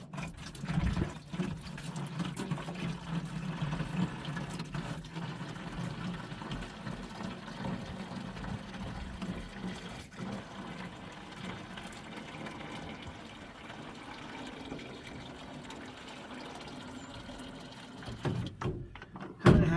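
Water poured into the low radiator of an older off-grid truck, a steady broad pouring wash running continuously for about twenty seconds, fairly close and moderately loud, with no talk.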